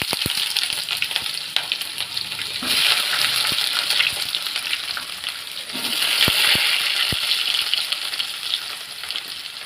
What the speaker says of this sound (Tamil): அதோட வெந்தயம் போடுறேன். பொரிஞ்சு வரட்டும்.